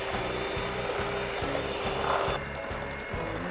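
Close electric mixer beating a chilled cream cheese filling with powdered sugar and milk powder for a nastar cheesecake dessert box, a steady mechanical whir with a regular pulsing, ratchet-like rhythm throughout.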